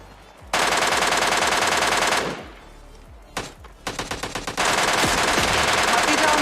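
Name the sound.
gunfire in a video game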